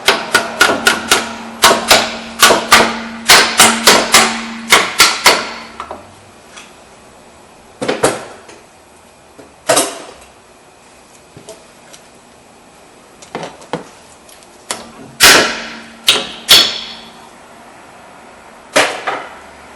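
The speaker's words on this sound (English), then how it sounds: "take our brake pad out. You can just tap it." Brake pad being tapped out of a caliper on a 2012-2016 Audi Q5: sharp metallic knocks in quick bursts, a rapid run at first, then sparse single taps and short clusters, loud and close.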